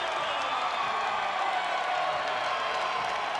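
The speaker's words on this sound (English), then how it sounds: "Comes out to a nice round of applause." Crowd applause and cheering greet a college wrestler from Omaha, Nebraska as he comes out at an Oklahoma State vs Nebraska dual meet, a steady dense wash of clapping from a large arena audience throughout.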